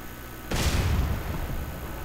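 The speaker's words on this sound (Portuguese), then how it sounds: "vou soltar uma bombinha só pra vocês verem o realismo de explosão" A small bomb detonates in GTA San Andreas on a construction site near a table. It lands as one sudden loud boom with a bright crack, then a long rumbling, debris-filled tail that slowly fades.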